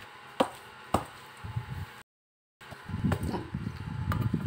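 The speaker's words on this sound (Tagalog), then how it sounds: "Una, durugin muna yung saging." Ripe bananas being mashed for nilupak, with a few sharp thuds followed by soft, squishy pounding and pressing that repeats at close range after a brief silent gap.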